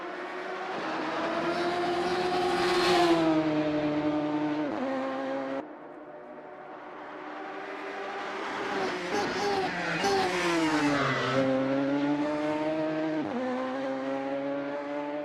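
Radical SR3 race car engine in Assetto Corsa at Road America, a loud, continuous high-pitched whine rising and falling through gear changes and throttle lifts, with a brief drop in the middle, heard alone.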